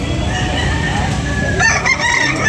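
A gamecock crows loudly and close at a morning rooster sale in Carbon, Cebu, its drawn-out call rising over a busy background of other fowl clucking and murmured talk.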